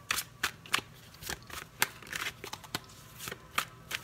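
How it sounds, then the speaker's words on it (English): Tarot cards being shuffled in quick, crisp bursts, a riffling flutter repeating every half second or so, close and moderately loud with no talking. "Having trouble shuffling for you"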